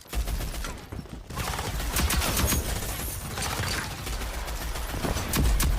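Rapid bursts of video game gunfire in a frantic panic-shooting moment, loud and dense throughout with mechanical clatter and a short quieter dip near the start.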